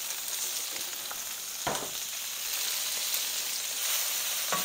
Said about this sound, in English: So now we're gonna put the shrimp down,